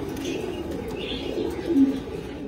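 A Saxon Fairy Swallow pigeon gives soft, low coos at a modest distance, with faint chirps and light background noise around it.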